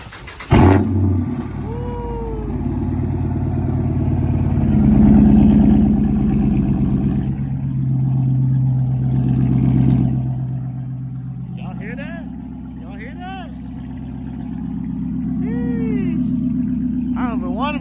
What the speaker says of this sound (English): To give us a rev, bro.